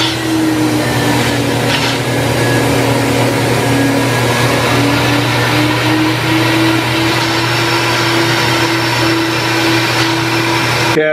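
A cylinder head flow bench for a small block Ford runs steadily as air is pulled through, a loud, constant vacuum-like roar with a steady tone that edges upward partway through, then cuts off abruptly at the end.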